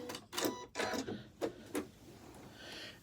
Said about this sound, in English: So I'm going to go ahead and use my thread cutter button.